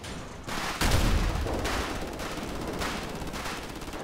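Gunfire in the GTA V police mod FivePD during a tractor pursuit, a loud blast followed by a sustained rumble of shots and fire that carries through the whole stretch, with no voices.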